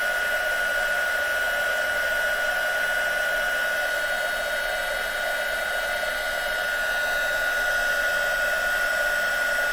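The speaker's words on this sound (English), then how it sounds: "I'm just going to heat emboss this." A heat embossing tool blows hot air in a continuous, even whir with a steady whine, held near and loud for the full stretch without interruption.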